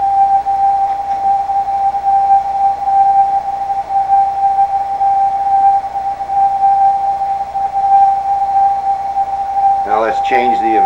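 Output from a Bedini Hodowanec gravitational wave tuner: a loud, steady electronic tone holding one pitch for about ten seconds, with a faint hum beneath, ending in a short burst of speech.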